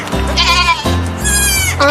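Close, loud sheep bleating in a farm setting, several wavering calls one after another with barely a break between them, heard alone without speech.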